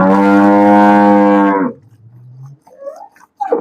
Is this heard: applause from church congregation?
no